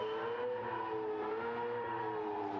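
A race car engine screams in the Gran Turismo video game, a sustained, steady high-pitched whine held at constant revs, loud and close, with no talk over it.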